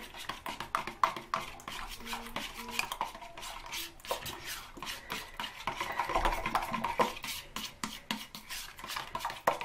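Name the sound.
mixing a yogurt and coconut oil hair mask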